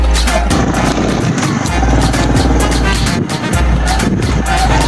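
Road traffic passes while travelling along a road in Bangladesh: steady, loud engine rumble and wind with vehicles going by and some pulsing low-frequency throbs, and occasional faint voices.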